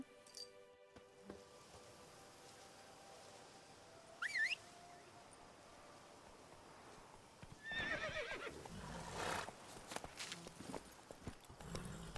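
Roach, a horse in The Witcher 3, gives a short whinny amid quiet hoof clip-clops and game ambience, followed by louder rustling movement and footsteps.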